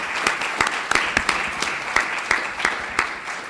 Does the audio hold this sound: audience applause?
yes